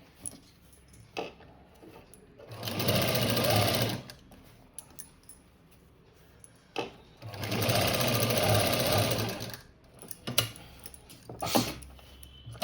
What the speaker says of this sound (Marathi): फक्त आता आपलं एक कवर टीप मारायची म्हणून मारून घेणार आहे